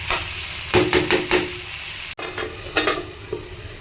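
Duck meat with garam masala is stirred in a hot pan, several distinct scraping strokes rising over a soft sizzle, with a sharp break midway before a few more stirs; no one speaks.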